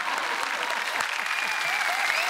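A studio audience at the Marathi comedy show Chala Hawa Yeu Dya bursts into applause for Nilesh, a thick, even wash of clapping that holds steady throughout, with a few faint thumps underneath.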